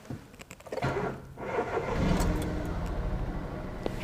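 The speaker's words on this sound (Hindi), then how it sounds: "तो स्टार्ट करते हैं इंजन और देखते हैं इंजन साउंड।" A petrol hatchback engine with 47,202 km on it cranks briefly, catches, and settles into a steady, even idle, recorded close with no talk over it.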